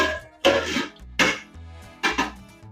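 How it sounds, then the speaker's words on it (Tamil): Metal clatter of a lid being put on a pot of Vaniyambadi biryani, three distinct clanks spaced apart, each with a brief ringing tail, close by with no talking. "அதை நான் இப்போ மூடி போட்டுறேன்"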